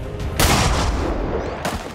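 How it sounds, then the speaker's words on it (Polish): In XCOM 2: War of the Chosen, a pistol fires two loud, booming gunshots about a second apart. Each shot has a sharp onset and a rolling, reverberant tail, and there is no speech. "Strzał z pistoletu."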